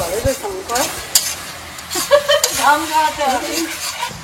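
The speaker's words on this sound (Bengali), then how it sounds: "এবারে হলুদ লঙ্কা দিয়ে পুরো মশলাটাকে ভালো করে কষিয়ে দিল।" Spice paste with turmeric and chili frying in a pan as it is stirred, soft scraping and sizzling close by, with occasional clinks and background voices chattering over it.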